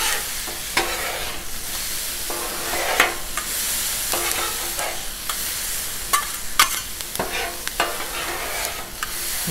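Steak seasoned with sea salt and fresh pepper sizzles steadily on a 36-inch Blackstone griddle, a continuous loud frying hiss broken by spatula scrapes and stirring clicks, with no talking.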